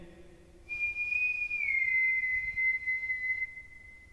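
A person whistling during a ghost hunt: one sustained, clear whistled note that slides down slightly and holds for a few seconds, close and fairly loud against a quiet room.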